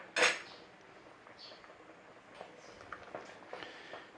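Potatoes for a Lancashire butter pie turned over in a pan, opening with one sharp metallic clatter, then faint scattered scrapes and light knocks.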